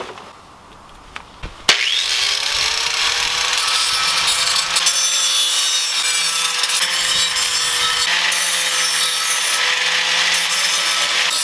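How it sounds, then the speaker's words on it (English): An angle grinder spins up with a sharp click and then grinds steadily against a truck exhaust tip, loud and close, with a continuous high whine and small fluctuations in load. "I'm gonna take the angle grinder to that to get a smoother surface"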